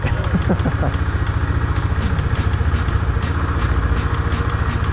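A Husqvarna Svartpilen motorcycle engine runs close by at a steady, throbbing idle, with light mechanical clicks and clunks from the gearbox as the rider works the shifter.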